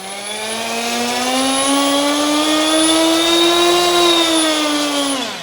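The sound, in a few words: OMP Hobby M4 RC helicopter motor spooling up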